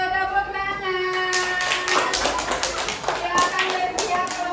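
A classroom of fifth-grade children claps for the first group about to start a food-chain role play, a dense burst of many small hands tapping quickly, with faint kids' voices mixed in.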